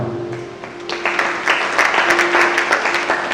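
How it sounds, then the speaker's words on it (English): Audience applause at a live-streamed Don Bosco event, following the presentation of an entry from a Salesian-run school in Thailand. Scattered claps swell within a second into steady, dense crowd clapping at moderate volume, with no voices over it. "Let's give them a clap of hand."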